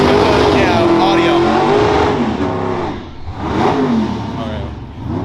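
A 2024 Ford Mustang GT with a 10-speed transmission revs hard at a drag strip, its engine roaring loud and close and swelling through changing pitch, with talk mixed in underneath.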